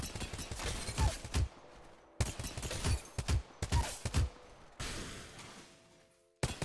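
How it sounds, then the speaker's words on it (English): Rapid bursts of 30-30 repeater gunfire in the Apex Legends video game, loud clustered shots in several volleys separated by brief gaps, ending with a fading tail and one final shot. "the 30-30 is using the G7 scout sound"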